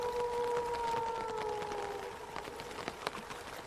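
Rain and wind howl together on a stormy night, a steady rushing hiss with a long wavering whistle-like tone drifting downward through the first half, then patters and louder drops near the end; no voices.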